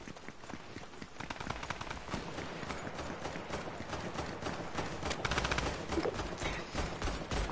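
Rapid automatic gunfire in Fortnite, dense overlapping bursts and scattered shots going on for several seconds at a moderate distance, with footsteps and movement mixed in.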